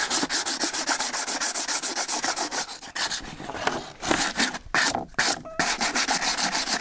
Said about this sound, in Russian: мы берем обычную наждачную бумагу, можно нулевку, и вот таким образом затираем эти сколы